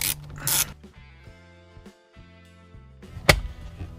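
A ratchet turns a 7mm bolt on a Camaro SS dash panel. Quiet, close bursts of quick mechanical clicking come at the start and again near the end, with near-silent gaps between them.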